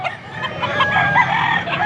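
Several young roosters, some yellow-legged, crow and cluck close by at an open-air poultry market in Angeles, Pampanga, with overlapping calls spread over a dense bustling background.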